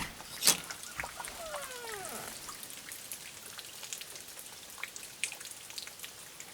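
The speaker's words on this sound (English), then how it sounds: "It's raining out." Rain falls steadily outside, a soft continuous patter with scattered distinct drops and one sharper tap, heard quietly and at a distance with no talk.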